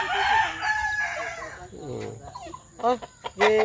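Chickens and a rooster on a Filipino farm, with a rooster's crow and scattered clucks breaking through in short bursts at moderate distance, while people talk nearby.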